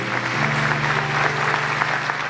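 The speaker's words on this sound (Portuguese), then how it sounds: "Pode aplaudir, irmãos, o nosso Deus é maravilhoso." A church congregation applauds during a sermon, with steady massed clapping over a sustained low musical tone from instruments or a held note.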